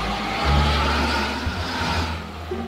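A BWS engine on a bus in Euro Truck Simulator 2, a loud deep mechanical drone that swells in a rev, then settles to a steady rumble, heard alone without talk.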